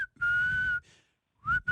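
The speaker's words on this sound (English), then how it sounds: "I'm just testing out my whistles." Two shrill whistle blasts, the first long and steady, the second short with a rising pitch, sounding close and loud.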